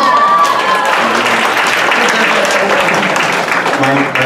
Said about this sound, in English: Round of applause for Nia.